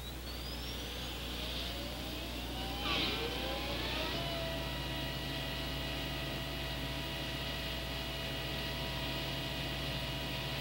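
Auxiliary power plant on a CH-54 heavy-lift helicopter running steadily, a continuous broad whine and hum with a rising tone that settles into a constant drone, close and loud with no voices.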